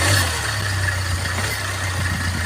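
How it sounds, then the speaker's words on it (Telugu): A Hyundai Creta diesel engine runs at a steady idle, giving a low, even hum with a faint rattle. It stays close and constant with no revving and no voices. "ఒకసారి ఇంజన్ స్టార్ట్ చేసి చూపిస్తారు, చూసుకోండి ఫ్రెండ్స్"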